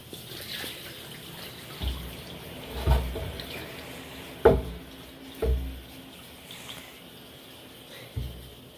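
Water is emptied from a small home water-lily pond during cleaning, heard as a run of separate splashy gushes and pours a second or two apart over a low, quiet background.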